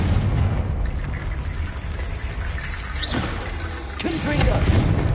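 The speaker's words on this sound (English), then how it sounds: "Confringo." The Confringo fire spell in Hogwarts Legacy bursts with a rumbling, booming blast over a dense, noisy game background, with a couple of sharper pops near the middle; a voice calls out spells.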